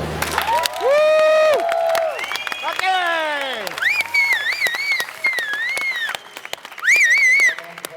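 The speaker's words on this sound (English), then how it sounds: "Big round of applause for Angus Mackie, everybody." An audience at the Australian Barista Competition 2019 finals applauds and cheers, with loud clapping mixed with high whistles and excited shouts in short bursts.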